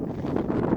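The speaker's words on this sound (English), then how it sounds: "But I know it's windy." Wind blows steadily outdoors along the Red Rock trail near Las Vegas, gusting against the microphone as a low, continuous rumble with no voices.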